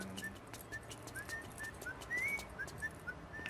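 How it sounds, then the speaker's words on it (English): Travis Touchdown whistles a jaunty melody in the video game No More Heroes, a string of short clear whistled notes repeating over a busy game soundtrack backdrop. "You gotta love that whistle. He knows how to whistle."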